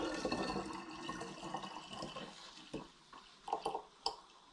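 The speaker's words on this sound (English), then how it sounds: "And this will just go blob and go through the funnel very shortly." Liquid for a root beer cider flooding through a funnel: a gurgling rush of pouring that gives way to separate glugs and drips, close and fairly quiet.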